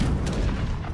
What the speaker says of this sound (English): You can also hear anti-aircraft batteries going off from the ground